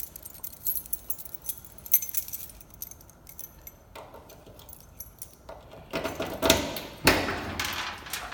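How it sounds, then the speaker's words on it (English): A ring holding keys to about four cars jangles and clinks near the mic in bursts, with a few louder metallic rattles toward the end and no talking. "I've got keys to about 4 cars on here"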